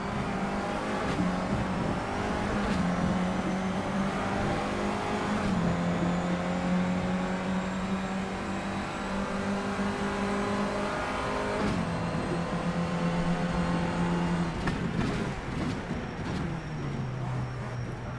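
A Skip Barber race car engine in rFactor 2 at Sebring drones steadily throughout, its pitch rising and dropping as gears shift, loud and continuous with no talking.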